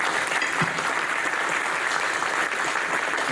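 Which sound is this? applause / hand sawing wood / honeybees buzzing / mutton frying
applause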